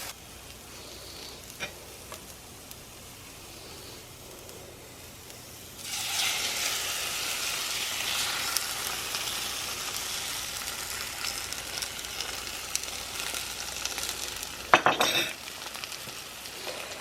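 Vegetables cooking down in a pan before spinach and eggs go in: a steady, loud broadband sizzle starts partway through after a quieter stretch and continues evenly, with a brief clatter of a utensil near the end.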